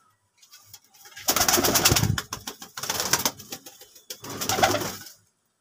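Andhra kalanka pigeons coo up close in three rolling bursts separated by short pauses, with nobody speaking.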